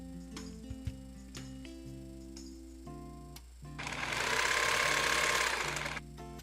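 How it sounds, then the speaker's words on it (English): A sewing machine runs in one loud, steady burst, stitching a double fold hem on a small fabric swatch for a doll's cloth mask. It follows quieter handling and faint clicks. "Sew a double fold hem on the opposite side too."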